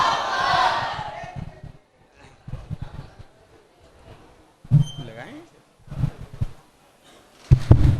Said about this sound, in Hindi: नारे तकबीर के साथ आपकी तकरीर का आगाज़।